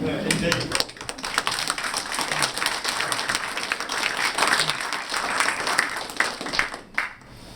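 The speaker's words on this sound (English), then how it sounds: "Applause." An audience applauds at a talk in Chester, a dense, sustained burst of many hands clapping that carries on for several seconds before thinning out near the end.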